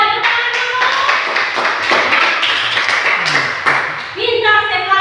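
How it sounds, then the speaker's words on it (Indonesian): Scattered hand clapping from a classroom of children, uneven taps rather than a tight round, under steady talk and kids' voices for about five seconds. "Ya, tepuk tangan dulu"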